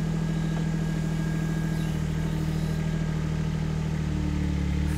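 A KYMRON XH20 mini excavator's engine idles steadily at close range, a continuous low rumble with a faint clattery texture that stays even throughout with no voices.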